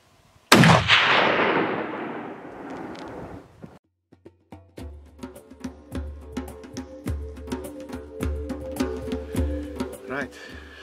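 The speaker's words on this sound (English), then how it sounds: "I'm going to take a shot now." A single loud rifle shot is fired at a waterbuck bull about 200 meters away during a hunt, with a long rolling echo. Afterward come scattered clicks and handling noises while people talk.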